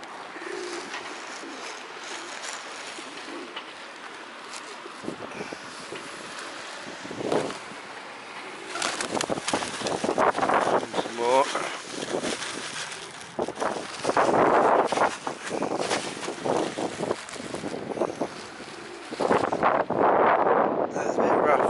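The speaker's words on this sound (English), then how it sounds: "It's a bit rough out there, a bit windy today" Wind blows outdoors on a rough day on the Isle of Wight, buffeting the microphone in uneven gusts that grow stronger partway through, with pigeons cooing and birds calling faintly underneath.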